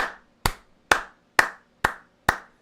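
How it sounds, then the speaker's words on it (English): Five sharp, evenly spaced claps from a single person at a live baseball watch party celebrating Texas A&M's run-rule win over SFA, each a crisp isolated hand clap close to the mic with silence between. "Round of applause to these boys."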